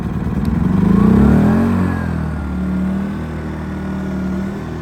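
A Harbor Freight 2000-watt inverter generator runs steadily and throttles up, its engine hum rising in pitch and loudness over the first second before settling into an even, moderately loud drone close by.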